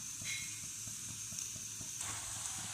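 Vegetables with dried fish sizzle in hot oil in a wok, a quiet, even hiss broken by a regular light tapping of stirring. No voices are heard.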